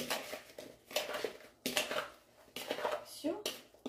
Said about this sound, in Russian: мы все перемешиваем